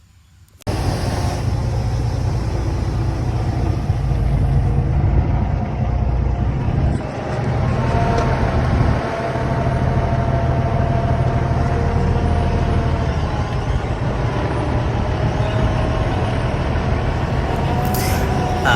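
A truck pulling a trailer loaded with chickens rolls past a curb, a steady close engine rumble and road noise that runs throughout.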